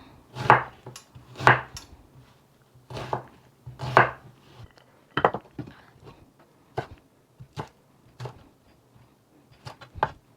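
A knife chops onion on a cutting board for a potato curry, giving sharp, uneven strikes, some in quick pairs, close and fairly quiet against a near-silent background.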